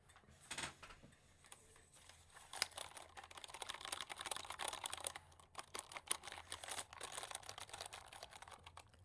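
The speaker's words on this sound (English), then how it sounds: "I love typing with this keyboard." Rapid, quiet typing on a computer keyboard with long key travel keeps up an uneven clatter of small clicks and taps for several seconds, with no talk over it.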